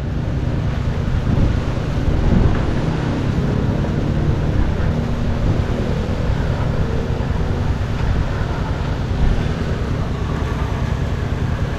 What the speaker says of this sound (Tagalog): Sipin nyo, hangin lang yan ha.